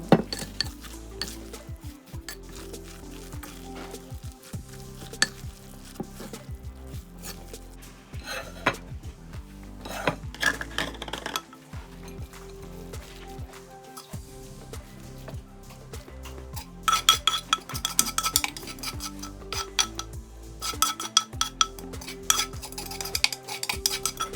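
Utensils scrape and clink against a pot in irregular bursts as Thai bamboo shoot salad with herbs and onion is stirred, with metallic taps throughout and a busier stretch toward the end.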